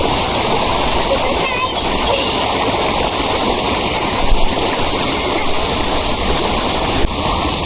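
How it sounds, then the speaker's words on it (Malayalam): A forest stream tumbles over rocks in a steady, close, loud rush of splashing water that runs continuously, with a few brief splashes and knocks breaking through. "ഒരു സൗത്ത് അമേരിക്കൻ ടച്ചൊക്കെ വരുന്ന ഒരു കാട്ടരുവി"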